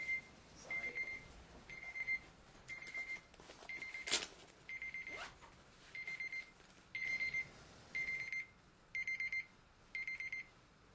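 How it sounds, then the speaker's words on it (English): A courtroom alarm going off, a faint repeated electronic beeping in regular pulses with a quiet room in the background. "Unless it's the alarm to go get the kids."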